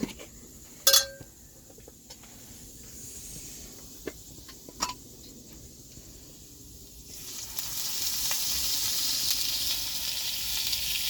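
Chicken frying in a masala on a wood-fired stove for a spicy Adivasi-style chicken chilli, a quiet hiss with a few clinks that swells into a steady, louder sizzle over the last few seconds.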